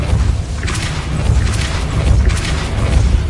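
A Depulso repelling spell is cast in Hogwarts Legacy, producing loud, close booming thuds and whooshing bursts that repeat over a deep rumbling game background.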